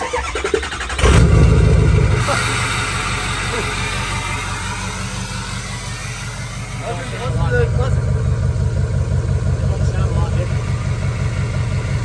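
A car engine running without its muffler fires up with a loud raw burst, settles into a rough, throaty idle, then revs up again near the end; people talk over it.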